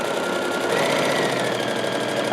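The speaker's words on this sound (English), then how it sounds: "I'm stitching it really close to the edge of the piece of fabric" A sewing machine stitches fabric close to the edge for a tote bag, producing a fast, steady mechanical whir and tapping that runs unbroken and loud throughout. Nobody speaks.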